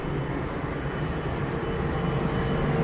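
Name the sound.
Boeing 737-700 aircraft touching down at Manchester Airport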